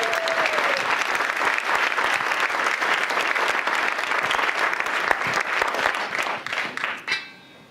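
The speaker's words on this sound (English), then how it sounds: "Let us welcome our speakers with an applause" Audience applause welcoming speakers at a talk: dense, sustained clapping from a room full of people, steady and fairly loud before tapering off and stopping near the end.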